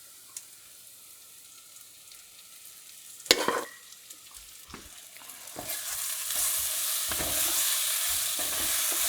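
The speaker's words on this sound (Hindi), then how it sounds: "मटन को प्याज और मसाले के साथ अच्छे से भुनेंगे." Mutton frying with onions and spices in a pan: a quiet start, a sharp clatter of a utensil, then sizzling that swells into a steady loud hiss with occasional stirring scrapes.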